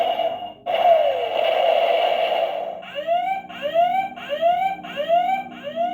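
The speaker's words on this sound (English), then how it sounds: "There's the alarm going off." A Star Wars AT-AT Imperial Walker toy from the 2010 Legacy Collection sounds its electronic alarm loud and close: a long sustained tone, then a series of repeating rising whoops, with no talking.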